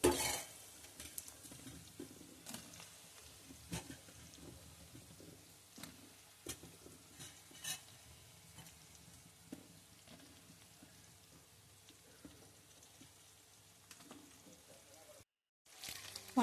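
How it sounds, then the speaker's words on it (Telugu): Brinjal is stirred into fried onions for a curry, giving a faint, quiet sizzle with sporadic soft clicks and scrapes of a utensil against the pan. "ములంకాయలు అన్నీ వేసి బాగా కలుపుకొని"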